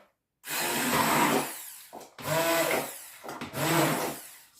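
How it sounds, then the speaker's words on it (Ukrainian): A kitchen blender whirs in three bursts, each a few seconds long, with short pauses between as it purees thick cooked pumpkin. "І тепер я буду збивати його блендером."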